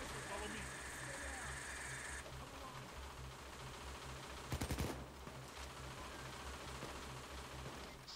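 A short, rapid burst of gunfire in the video game PayDay 2 stands out over quiet background noise, with talk and some game sounds around it.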